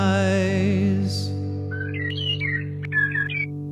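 Bird chirps and tweets from a song recording, a few bright whistled calls rising over a sustained musical tone that fades out.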